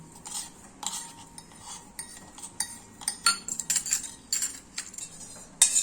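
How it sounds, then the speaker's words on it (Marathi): A spoon clinks and scrapes against a metal pot while stirring a sugar mixture for eggless bambolini doughnut batter, with quick irregular metallic taps and jingles close up, no talking. "आता हे चांगलं आपलं ढवळून घेऊ मिश्रण।"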